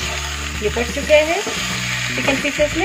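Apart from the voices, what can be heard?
chicken frying with spices on high flame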